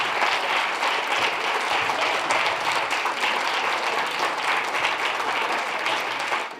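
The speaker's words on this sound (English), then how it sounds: "I think one more round of applause." Sustained applause from an audience at a film festival premiere, steady dense clapping filling the room for several seconds without a break before easing off at the end.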